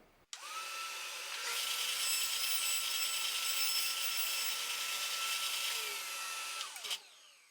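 A power saw cuts through the wooden bottom panel of a drawer, spinning up sharply, then holding a loud, steady whine for about six seconds before winding down with no voices.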